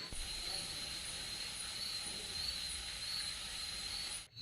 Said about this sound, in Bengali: চারিদিকে ঝিঝি পোকার ডাক রয়েছে